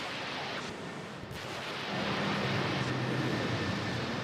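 Asiana Airlines Airbus A330 airliner arriving from Seoul and touching down at Manila airport, a steady broad jet roar with a deeper rumble swelling in partway through, loud and continuous with no talk.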